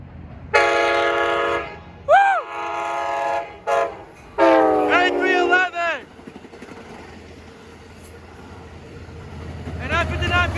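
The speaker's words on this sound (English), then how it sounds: "I believe this is a 7-car train." An Amtrak San Joaquin southbound seven-car passenger train with a cab car leading sounds several loud, close horn blasts, long and short, then rumbles past as the horn sounds again.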